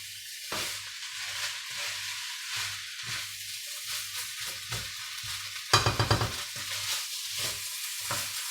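Indonesian nasi goreng with prawns being stirred in a hot pan: a steady sizzling hiss broken by rhythmic scraping strokes and a quick burst of utensil taps against the pan, close-up with no voices.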